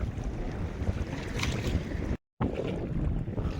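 Strong wind roars across a fishing boat at sea, a loud, steady broadband rush with water wash beneath it. It runs continuously apart from one brief dropout.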